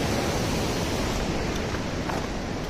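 The Raghuganga river in Nepal flows down to join the Kali Gandaki, giving a steady, loud, close rush of broadband water noise that stays even throughout, with no voices.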